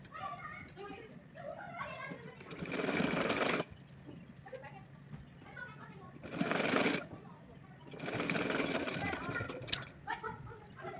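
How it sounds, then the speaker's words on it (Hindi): A household sewing machine stitches cloth for a small Laddu Gopal deity dress, in three whirring bursts of a second or more each, separated by pauses. Someone talks softly in between and over the stitching. "रखने के बाद में यहाँ पर मैं रख करके इस पर सिलाई लगाऊँगी"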